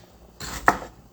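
A knife chops bell peppers on a cutting board, giving one sharp, close thunk of the blade striking the board amid a short burst of crisp cutting noise, with no talk.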